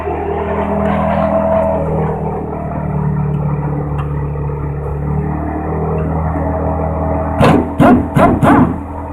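An air impact wrench with an extension and 15mm socket loosens fuel pump bolts on a 1996 Chevy, firing three sharp rattling bursts near the end over a steady droning air compressor.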